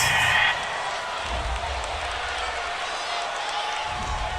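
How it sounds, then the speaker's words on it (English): Home crowd noise in Madden NFL 20 during a Jaguars at Bengals game, a steady, dense roar that swells briefly at the start and then holds level with no talk over it. "This home crowd, they're happy with that call."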